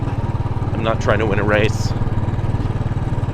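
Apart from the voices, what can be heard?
Royal Enfield motorcycle engine while riding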